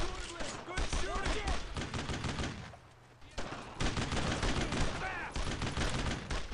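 Gunfire during a Brothers in Arms: Road to Hill 30 battle push into Carentan: dense, rapid bursts of rifle and machine-gun fire with a brief lull, mixed with shouting voices.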